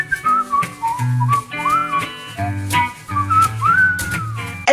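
A person whistles a lively melody up close, the tune sliding and warbling over a rhythmic background accompaniment.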